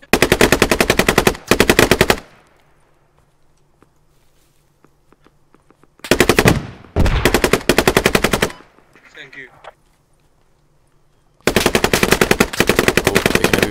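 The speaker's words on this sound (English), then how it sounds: "Oh, taking heavy fire." Loud automatic gunfire in a squad-based military shooter game, long rapid bursts separated by pauses, with faint footsteps and a brief muffled voice in the gaps.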